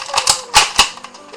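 A Nerf Recon blaster dry-fired with no dart loaded gives a few sharp plastic clicks and snaps, close and clear, with three or four quick mechanical bursts in under two seconds.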